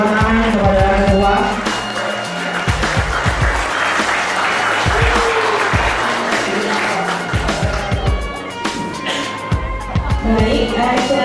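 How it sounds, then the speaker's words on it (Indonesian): A crowd claps at a community club's declaration event for the committee chairman, dense sustained applause with some voices and cheering mixed in throughout. "semua beri tepuk tangan kepada Ketua"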